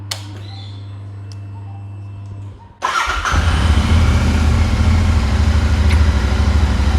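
A Royal Enfield Interceptor motorcycle, its battery just reinstalled, cranks briefly after a low steady hum, then catches and settles into a loud, close, steady idle.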